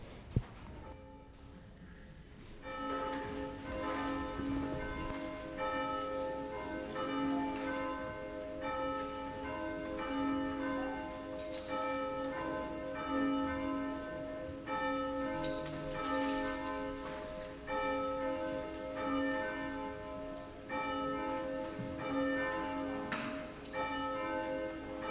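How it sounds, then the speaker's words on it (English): Church bells ring steadily before a Sunday service, their overlapping tones sustained and moderately loud throughout, with no talking. "we begin our service with the ringing of the bells."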